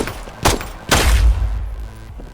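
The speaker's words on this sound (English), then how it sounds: "This one is the M9A1. This one's only a single fire." Two loud single shots from an M9A1 pistol in the game Contractors Showdown, close and punchy, spaced about half a second apart with a booming low tail.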